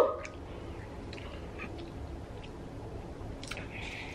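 Sour, crunchy pickles with a little hot sauce being chewed up close, with a crisp bite at the start and then soft, wet, squishy chewing that continues quietly throughout, no talking.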